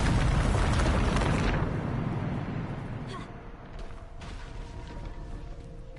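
A Bombarda blasting spell in the Hogwarts Legacy video game erupts in a loud, close explosion whose rumbling roar fades over a few seconds into creaks and scattered debris clatter.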